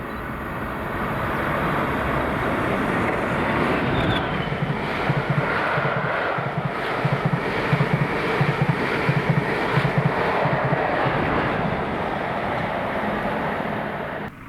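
Railtour 1Z14 passes on its Inverness to Crewe run, class 40 locomotive 40013 leading class 47 47805: a loud, sustained roar and rumble of the diesel train going by close up for about fourteen seconds, with wind buffeting the microphone.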